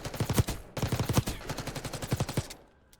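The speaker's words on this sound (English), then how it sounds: "I'm kind of having fun shooting right now." Rapid video game gunfire comes in bursts of quick shots, with a short pause between volleys, then fades out at the end; the game is played with an Xbox controller.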